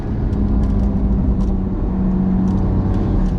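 A tuned BMW M2 Competition with Pure Turbos Stage 2+ and DCT gearbox, about 700 wheel horsepower, pulls hard on a canyon road, its engine a loud sustained drone close up with a steady, unbroken pitch.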